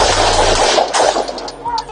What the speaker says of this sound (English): Officers then open fire.